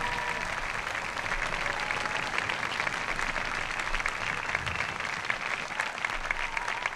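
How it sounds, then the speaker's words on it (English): An outdoor concert audience in Florence's Boboli Gardens applauds the orchestra, a continuous, even roar of many hands clapping, heard from some distance and fairly soft. "Applause"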